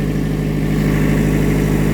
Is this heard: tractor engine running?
yes